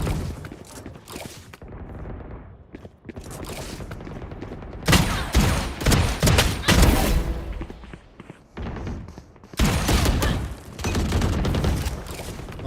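Gunfire from a Valorant esports match, with bursts of shots and thuds in loud clusters separated by quieter gaps.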